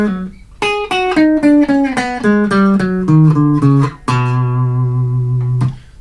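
Electric guitar plays an outro run from a song's solo, a fast sequence of picked single notes with scale runs and chromatic steps, ending on a sustained, wavering held note, loud and alone.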